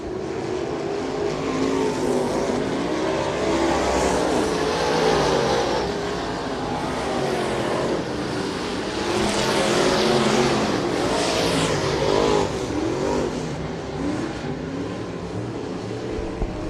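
Dirt track race cars thunder around Bubba Raceway Park during a memorial race event. Their engines roar loudly and continuously, swelling and fading as the pack passes, with overlapping revving and no voices.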